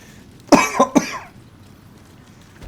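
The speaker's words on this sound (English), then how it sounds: "Sorry for the cough" A few sharp coughs in quick succession, close and fairly loud, followed by quiet room noise.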